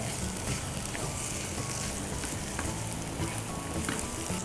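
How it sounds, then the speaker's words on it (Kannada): Onions frying with ginger garlic paste in a pan, a steady, dense sizzle that holds at an even level throughout without any pause. "ಶುಂಠಿ ಬೆಳ್ಳುಳ್ಳಿ ಪೇಸ್ಟ್ ಇವೆಲ್ಲ ಸೇರಿ ಹುರ್ಕೋಬೇಕು ಮೊದಲು"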